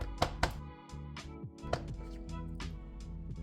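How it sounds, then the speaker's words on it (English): Strawberries-and-cream ice lolly tin tapped lightly on a kitchen counter, a couple of sharp knocks near the start and another a little later, close and fairly quiet against a steady background hum. "I'm going to bash the tin on the counter"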